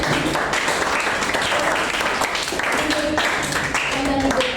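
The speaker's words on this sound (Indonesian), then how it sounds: "Tepuk tangan buat kelompok 1." A classroom audience claps steadily for a student group, the applause filling the whole stretch at an even, moderate level with faint voices mixed in.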